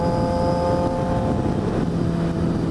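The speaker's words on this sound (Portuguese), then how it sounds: "Não sei se minha voz vai pegar junto com o escape, é muito alto" A Jaguar XJ6 with a straight-pipe twin-outlet exhaust idles and rumbles loudly up close, a deep steady droning roar with a slight swell in pitch partway through, no talk over it.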